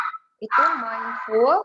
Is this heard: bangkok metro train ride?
no